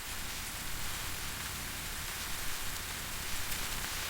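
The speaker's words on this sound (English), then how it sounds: "The weather is perfect for a quiet day inside listening to the rain." Rain falls steadily on a wet street, a broad, uniform hiss at low level with no distinct drops or voices standing out.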